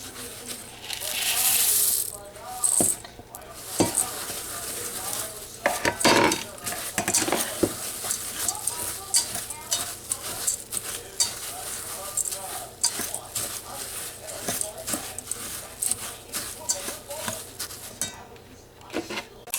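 Oats being stirred into oatmeal raisin cookie dough in a bowl, giving steady scraping and clinking of a utensil against the bowl throughout, with a louder burst of mixing noise near the start.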